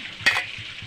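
Steady sizzling of marinated meat frying in a hot pan, with a brief louder crackle of stirring near the start.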